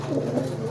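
Pigeon cooing, a racing pigeon (merpati) male giving a hard courtship coo toward a hen; a low, steady, throaty coo held close and moderately loud across the short moment.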